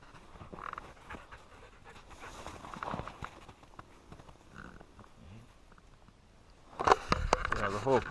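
Dog panting on a snowy winter hike near a cabin, soft quick breaths close by, with someone speaking briefly near the end.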